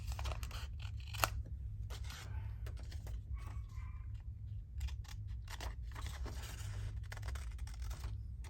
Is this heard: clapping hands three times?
no